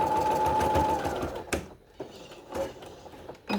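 Sewing machine stitching and backstitching a fabric cushion cover, a steady close motor whir that stops briefly, then a few short separate bursts of stitching with quiet gaps between them.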